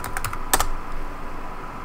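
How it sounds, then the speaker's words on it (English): A short burst of computer keyboard typing, a few quick close keystrokes followed by quiet, while entering a password during SSH setup in an Ubuntu Docker container. "type in the password"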